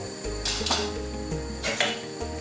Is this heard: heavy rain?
no